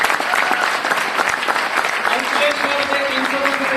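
Steady applause from an audience at a 30-year reunion in Mumbai honoring a mentor, dense clapping filling the room throughout, with a voice talking over it.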